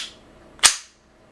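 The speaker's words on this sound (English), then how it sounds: "it loads another round by moving the action of the gun back, and it slams shut" A single sharp metallic slam as a gun's action cycles back and snaps shut, loud and close, with a short fading tail and a faint click just before it.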